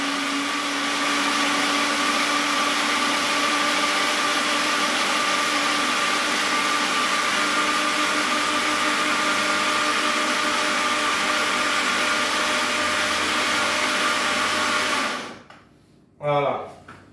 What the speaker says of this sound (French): Maintenant, on referme le blender. Voilà. Et on mixe tout ça. Vitesse maximum.